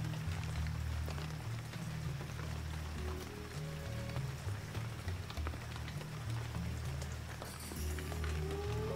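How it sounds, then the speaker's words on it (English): Steady rain falls at night in a soft, continuous hiss, faint and even throughout, with a low rumble underneath and no voices. "Oh, it's raining."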